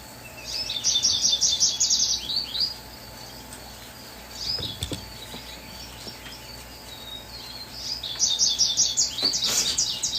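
Pet bird chirps in rapid bright bursts, first for a couple of seconds then again near the end, fairly close, over a steady low indoor hum with no voices.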